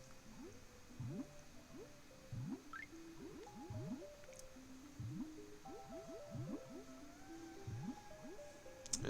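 Swimming in the Banjo-Tooie video game gives a run of squishy, dripping water blips and gurgles, repeating in quick bursts over a steady bed of game music, with no talk.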